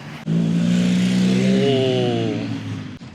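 A Honda Super Cub motorcycle engine rumbles close by, rising in pitch as it revs, then fades and cuts off.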